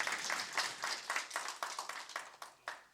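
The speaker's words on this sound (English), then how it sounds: "You can clap." Audience applause after a conference talk on CSS features for frontend apps, a steady patter of many hands clapping at moderate distance, fading slightly toward the end with a few louder individual claps.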